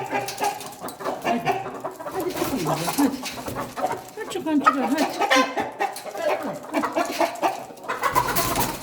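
Australorp chickens cluck and murmur close by in a continuous, busy chatter, with a few voices talking among them.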